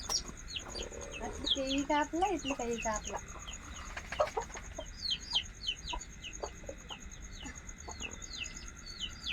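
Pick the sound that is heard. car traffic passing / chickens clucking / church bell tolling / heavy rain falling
chickens clucking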